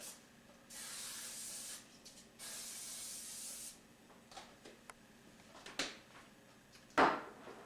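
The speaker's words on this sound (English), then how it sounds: "spray the pan into the pan to grease it up a little bit" Two long bursts of cooking spray hiss, each about a second and a half, greasing a cake pan, followed by a few light clatters and a sharper knock near the end.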